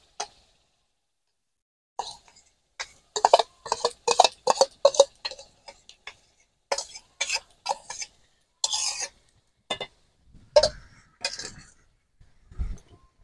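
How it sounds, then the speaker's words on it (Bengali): A sweetened cabbage mixture is stirred briskly in a hot pan to make a winter cabbage sandesh sweet. Irregular close scrapes and clacks of the utensil against the pan come in quick clusters with short pauses, and no one speaks. "ঘন ঘন নাড়তে হবে এইভাবে"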